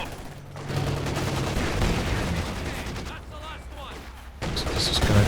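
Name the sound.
gunfire from Partisan ambush in the video game Company of Heroes 2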